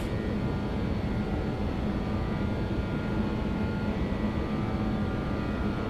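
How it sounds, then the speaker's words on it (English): A BAe 146 airliner roaring down the runway on takeoff in X-Plane 11 in bad weather, its four jet engines making a steady, loud, broadband rumble with a faint whine that holds throughout. "this is quite a challenging takeoff"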